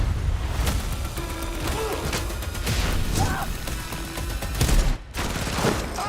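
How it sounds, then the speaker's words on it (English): A C4 blast amid chaotic gunfire in The Running Man trailer, dense crashing and rattling shots throughout with a heavy burst near the end, loud and busy with no clear voices. "is that C4? BFE, big fucking explosion"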